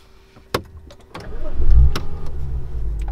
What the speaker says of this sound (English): And look at that, car started.